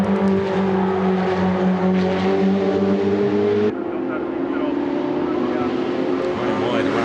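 Ferrari Challenge race cars at Monza, a car running wide around the Parabolica with loud sustained engine drone, shifting pitch midway as another car passes, with race commentary over the top.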